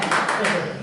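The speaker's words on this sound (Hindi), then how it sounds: "देखो ताली बजाओ" An audience at a press club gathering claps in a brief burst of quick hand claps, close and moderately loud, overlapping with a voice speaking.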